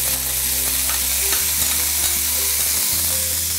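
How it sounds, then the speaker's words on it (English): Yogurt is stirred into ginger-garlic mutton masala as it fries for Old Delhi style biryani, a loud close sizzle with steady stirring and a low hum beneath, no talking. "stir this so that the curd does not split"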